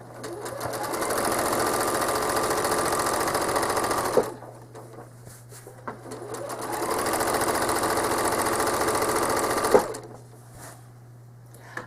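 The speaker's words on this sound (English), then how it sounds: "I'm going to stitch over that 1/4 inch again to get my second curve" A home sewing machine machine-quilts a cherry-bowl quilt block, running in two steady rapid-stitching bursts of about four seconds each with a short quiet pause between them, close and clear.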